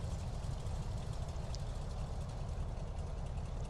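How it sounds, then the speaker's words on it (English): Carenado WACO YMF-5 biplane engine idling in a flight simulator just after start-up, a steady low rumbling drone that holds even and continuous throughout with no talk. "Engine is now started."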